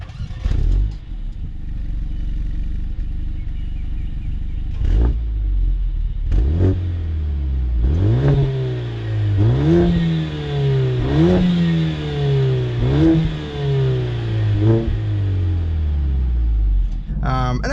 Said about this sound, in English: When you start it up, it's got this definite note to it